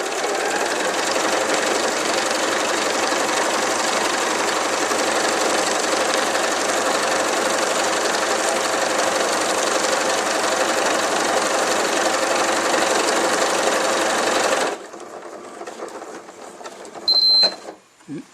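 Elna Lotus computerized sewing machine stitching a darning grid, a steady, loud, fast mechanical whir that runs continuously for about fifteen seconds and then stops, leaving quiet handling clicks.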